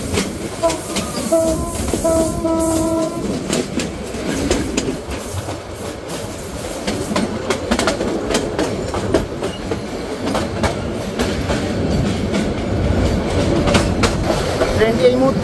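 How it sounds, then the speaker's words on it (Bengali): The Suborno Express on the Chattogram to Dhaka line runs through Brahmanbaria, heard on board: loud continuous rumble and clatter of wheels on rails with a brief horn-like tone early on and muffled voices in the background. "ট্রেনটি এই মুহূর্তে ব্রাহ্মণবাড়িয়া থ্রুপাস করে যাচ্ছে।"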